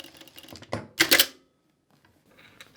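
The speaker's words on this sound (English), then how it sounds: "When you reach that marking, back stitch and stop." A sewing machine stitches fabric in short mechanical bursts, with a louder clattering run near the middle, then quiet before faint tapping at the end.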